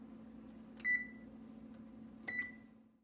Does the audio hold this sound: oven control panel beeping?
yes